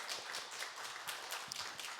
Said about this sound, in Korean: 김성태 집사님 우리 격려의 박수 들어가겠습니다